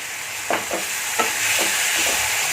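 A spoon stirs spice masala with a little water in a frying pan, making several short scraping strokes in an uneven rhythm over a soft, steady sizzle, with no talking.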